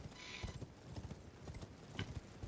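A horse trots along a road in a video game, its hooves striking in a steady, brisk clip-clop rhythm. The hoofbeats stay fairly close and faint over quiet ambient game sound, with no talking.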